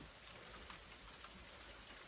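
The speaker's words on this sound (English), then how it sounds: "as you can see it's raining now" Steady rain falls outside a greenhouse as a continuous, soft hiss with a few faint drops standing out, quiet and without voices.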